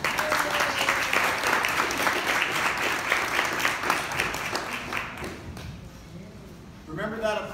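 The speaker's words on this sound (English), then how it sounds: "Remember that applause for when I get done," Audience applause greeting a doctor introduced at an upper cervical care event, a dense steady clatter of many hands for about five seconds that then fades into quieter room sound with a voice beginning near the end.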